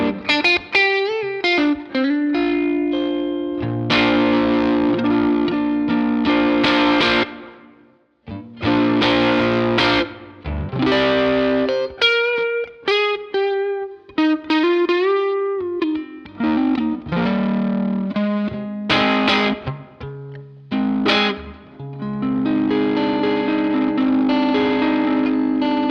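An electric guitar runs through a Twin Boost pedal into an overdriven amp, playing distorted chords and single notes with a chorus-like, echoing sheen, loud and continuous with brief pauses and no talk.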